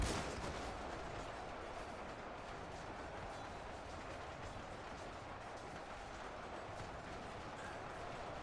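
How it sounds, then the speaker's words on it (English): Redcoat musket volleys in Ultimate Epic Battle Simulator 2, a steady dense crackle of distant gunfire rolling on continuously like a battle din, moderately faint with no talk. "Yes, I do have a few redcoats over here firing as well."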